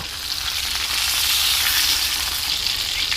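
Falli fish sizzles steadily in hot oil, a dense, continuous crackling hiss with no talking.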